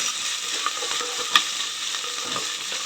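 Green chillies sizzle and crackle in hot oil in a pan, a steady close frying hiss with a sharper pop near the middle and no voices.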